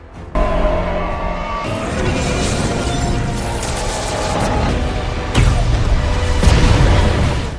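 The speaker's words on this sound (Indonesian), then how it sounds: "dan ledakan besar pun terjadi." A big explosion from a superhero film bursts suddenly, then becomes a sustained, loud roar of crashing debris and rumbling blasts with a fresh surge near the end.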